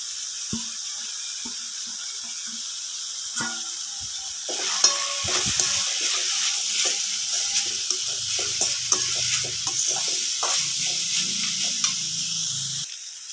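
Finely chopped green chillies tipped into a frying pan and stirred, a few light taps and clinks first, then a close, bright sizzle with repeated scraping stirs that fades toward the end.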